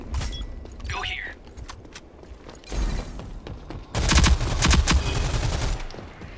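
Bursts of automatic gunfire in the shooter game Rogue Company, loud sustained volleys near the end after quieter scattered shots, with players talking over the action.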